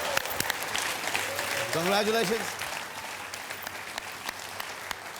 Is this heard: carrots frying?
no